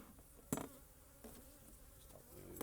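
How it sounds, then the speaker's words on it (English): Honeybees in a hive box at an apiary, shaken loose from a frame, give off a low continuous buzz with a sharp burst of activity about halfway in and smaller swells after, quiet overall and with no talk. "As I shake up those bees."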